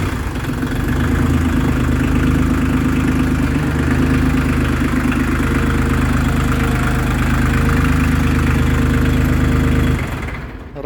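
A Shibaura D23F 4WD Japanese mini tractor diesel engine, fitted with a rotary tiller, runs at a steady, loud, close idle with a constant rumbling drone for about ten seconds before cutting off abruptly.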